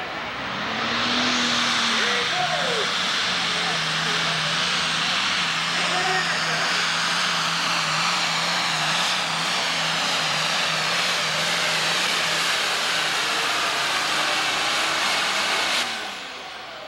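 A loud, steady engine roar from a red pulling tractor at a 1995 tractor pull in Warrenton, Missouri, droning continuously at high power with a faint tonal hum, close and sustained.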